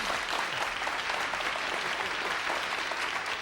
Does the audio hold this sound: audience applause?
yes